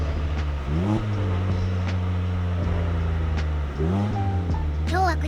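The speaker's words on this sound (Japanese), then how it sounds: "今日は呉市から車を走り出して東に向かって走っていく" A car drives eastward out of Kure on a hot day, its engine giving a steady, close drone throughout, with brief rises in pitch as it accelerates and shifts.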